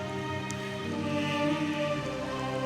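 Rain falls steadily outside a hostel in Kodaikanal, a soft continuous patter under a low steady hum, brief and even in level.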